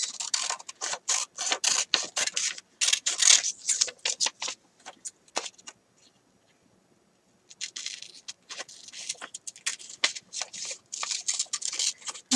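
Scissors snipping out a paper Marblehead Lighthouse piece, a close, steady run of crisp paper cuts and rustles with a brief pause midway before the cutting resumes.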